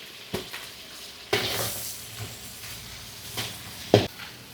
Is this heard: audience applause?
no